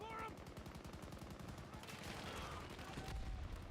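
Gunfire from new guns in a video game, a rapid string of machine-gun bursts with a quick, even rhythm, fairly faint, fading into scattered shots.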